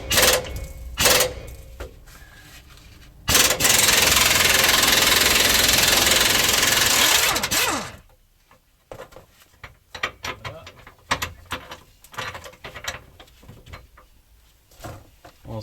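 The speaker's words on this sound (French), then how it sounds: "Vous prenez votre clé à choc ou votre cliquet." An impact wrench or ratchet works on the stabilizer bar of an Iveco Daily IV van, with a few short mechanical bursts before a loud sustained rattling run of several seconds, then scattered clanks and handling noises.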